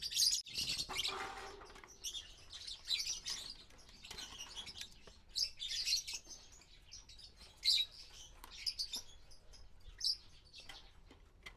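Lovebirds chirping inside a nest box, several high thin tweets and peeps coming in repeated bursts, close and fairly faint, with brief rustling between calls.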